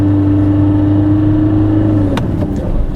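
A Fiat Panda engine with a fault that stops it revving past 3,000 RPM drones steadily at a held pitch, loud and close, then drops off with a couple of sharp knocks near the end.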